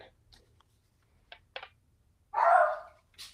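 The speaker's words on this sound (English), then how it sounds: "we got doggies barking" A couple of short clicks, then one loud dog bark close by, followed by a fainter second yelp.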